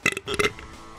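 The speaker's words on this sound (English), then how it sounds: "listen to that burp, too" A short burst of burping, two or three quick guttural pulses close to the microphone, fading out within a second.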